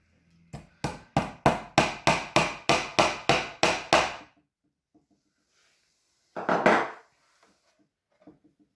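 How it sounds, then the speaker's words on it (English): A hammer drives nails through fabric into a cushioned chair, giving a steady run of about ten sharp, close, evenly spaced blows, then a pause and one last strike. "And simple as just nailing it in."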